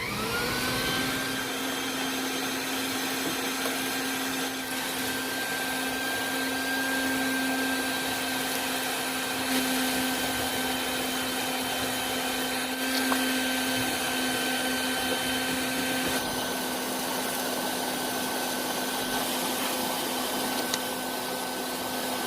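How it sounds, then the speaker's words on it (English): A vacuum cleaner cleaning dust out of a York furnace burner section runs continuously at close range with a steady whining hum, its pitch shifting slightly partway through, with no talking. "I'm gonna vacuum out this burner section, just get all the dust and crap out of there"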